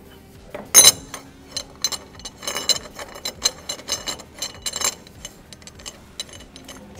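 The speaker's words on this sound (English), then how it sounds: "Now I take this to our other assembly tool and I'll torque this up." Torque wrench tightening a wheel nut onto an IndyCar upright held in an assembly stand, giving a series of sharp metallic clicks and ratcheting ticks at close range, with one loud clank near the start and no talking.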